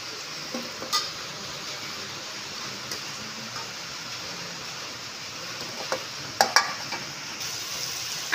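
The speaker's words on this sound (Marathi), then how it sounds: "अशा पद्धतीने सगळे मोदक तळून घ्यायचे." Modaks deep-frying in hot oil give a steady, soft sizzling hiss, broken by a few clinks of a utensil against the pan.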